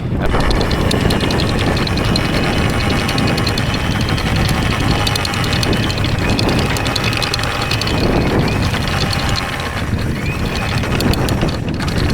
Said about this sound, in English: my engine decided to start